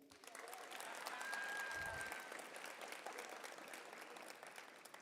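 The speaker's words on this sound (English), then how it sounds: "Clap for yourself, please." Graduates at a Cleveland Early College High School graduation ceremony clapping for themselves, a broad, fairly distant wash of crowd applause that swells and holds steady for about five seconds.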